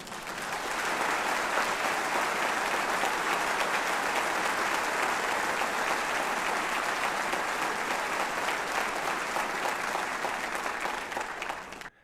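Large audience at a Jehovah's Witness gathering claps steadily and continuously, a dense wash of applause filling a big hall for the whole stretch.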